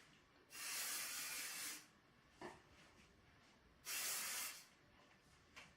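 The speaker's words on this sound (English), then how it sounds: "now I'm going to spray some of the Remington oil just to shine a sister up a little bit" Two distinct bursts of hair oil spray hiss close by, each lasting about a second, separated by a quiet pause and a faint click.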